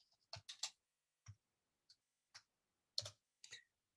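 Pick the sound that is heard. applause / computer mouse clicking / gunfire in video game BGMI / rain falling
computer mouse clicking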